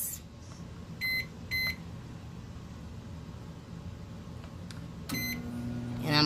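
A microwave oven set to cook eggs gives two short electronic beeps close by, then a longer tone as it starts, over steady room hiss and the hum of the running oven.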